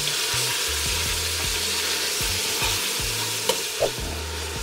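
Meat sears in a hot pan while being flipped, giving a steady, close, loud sizzle throughout, with a couple of brief utensil taps near the end.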